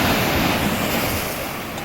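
Ocean waves wash up on a beach in Ghana, a loud, close rush of surf mixed with wind buffeting the microphone, steady and fading slightly over a short burst with no voices.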